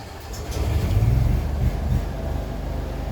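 Onboard generator in a 1950 Dodge Route Van outfitted as a food truck, running quietly as a steady, low, even rumble that holds throughout with no voices.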